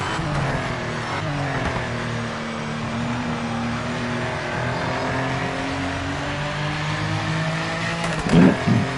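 A white and red Porsche 964 Cup race car, number 18, howls steadily in a racing game at the Zolder circuit, engine pitch climbing and falling through gear changes, with a brief harsher burst near the end.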